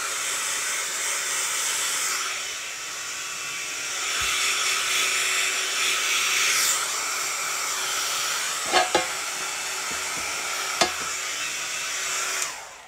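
A hair dryer blows steadily for about thirteen seconds, a close continuous airy roar with a few brief clicks and knocks near the end, no talking.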